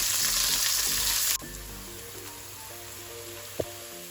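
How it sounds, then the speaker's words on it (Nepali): Onion and a bay leaf frying in oil in a pan, an intense sizzle that drops abruptly to a quieter steady crackle, with one sharp utensil knock near the end. "अब यसलाई एकछिन रातो हुँदैसम्म फ्राई गर्नुपर्छ।"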